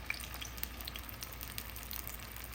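Blended tomato, green chilli and onion sizzling in hot oil for a fish bhuna, a steady close crackle and hiss with scattered small pops, with no talking.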